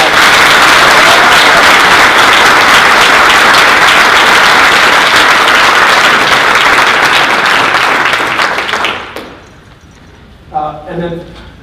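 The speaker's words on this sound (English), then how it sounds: "Can we give them a round of applause?" Audience applause at the City of Sandusky State of the City 2018 address, loud sustained clapping for about nine seconds before fading out, followed by a brief murmur of voices.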